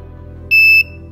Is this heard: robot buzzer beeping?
yes